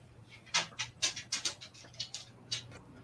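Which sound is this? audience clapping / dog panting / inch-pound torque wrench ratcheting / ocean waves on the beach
dog panting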